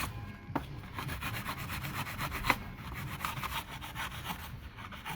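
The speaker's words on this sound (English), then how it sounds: "quick run around with the Scotch-Brite gets the job done" A Scotch-Brite pad scrubbing lightly soiled clutch parts during a Subaru WRX clutch job, quick rapid back-and-forth scratching strokes, close but fairly quiet, with a couple of small knocks.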